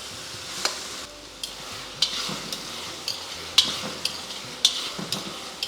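Cooked khara pongal is stirred into a hot ghee tempering with browned cashews and asafoetida, giving a soft sizzle under repeated scraping clicks of a spoon against the pan, roughly one every half second to second.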